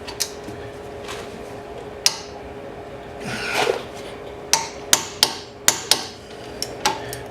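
Nissan Versa front brake caliper bolts being worked down with a hand tool, heard as a series of sharp metallic clicks and knocks, several in quick succession near the end, close up with no talking.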